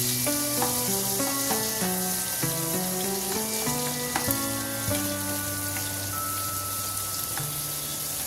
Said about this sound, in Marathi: आता याच तेलामध्ये आपण चिरलेला कांदा मी हा चांगला परतून घेणार आहे।